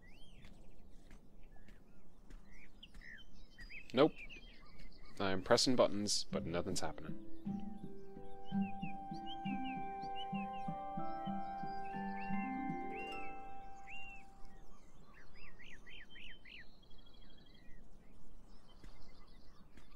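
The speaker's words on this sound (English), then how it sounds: "Shit, birds! Scared the bejeebus out of me." Birds burst out with a sudden flurry of chirps and flapping in the game Beyond Eyes, followed by scattered tweets and soft footsteps while a voice talks intermittently over quiet ambience.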